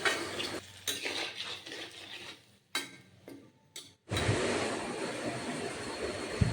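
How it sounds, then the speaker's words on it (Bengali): A utensil stirs and scrapes through spiced potato curry with the peel on, in a pan after water is added. Irregular clinking strokes come first, then a steady loud simmering sizzle takes over. "আমি এবার জল দিয়ে ভালো করে মিশিয়ে নিচ্ছি"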